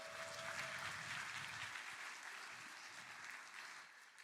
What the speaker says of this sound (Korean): 여러분 나오실 때 큰 박수 부탁드립니다.